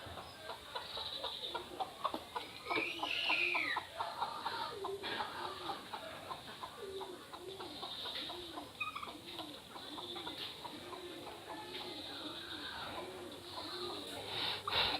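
Domestic desi chickens cluck in a steady, rhythmic stream of short calls at a farmyard feeding spot, with a voice heard faintly now and then in the background.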